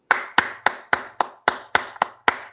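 Hands clap in praise during a Sunday church service. There are about nine crisp, close claps in a steady, fairly quick rhythm with no voices.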